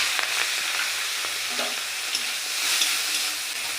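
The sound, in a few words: frying salt and turmeric coated prawns in hot oil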